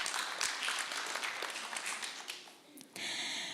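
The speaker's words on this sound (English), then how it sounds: "Let's clap for them, please." An audience at a communication conference claps together in a sustained burst of applause that thins and fades near the end before a brief, sharp rise.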